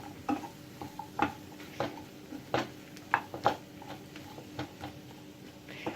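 Courgettes tossed with onion and garlic in a frying pan, a utensil scraping and knocking against the pan in a steady series of soft strokes over a faint sizzle, close by with no voices.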